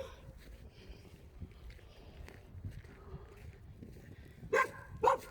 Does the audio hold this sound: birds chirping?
no